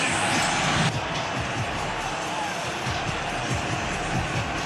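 A loud, dense roar fills a football stadium as fans of home team Ohio State make noise against Indiana's offense. The wall of crowd noise is sustained and close, with a faint announcer's voice underneath.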